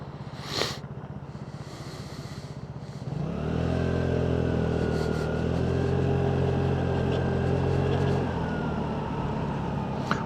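A Vespa LX 150 scooter on a night ride through town idles quietly, then its small engine revs up and holds a steady buzzing drone while cruising, fairly close and loud, with no talking.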